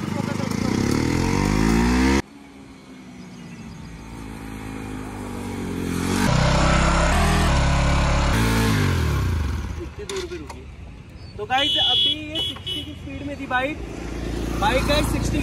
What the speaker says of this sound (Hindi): बाइक गाइस 60 की स्पीड में थी।